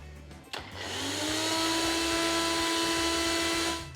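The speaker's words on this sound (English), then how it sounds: "Some slices of ginger, some dark soy sauce, and then we'll just blend this" A blender whirs through slices of ginger and dark soy sauce, a short clunk at the start followed by a steady, high motor whine that holds for about three seconds before winding down.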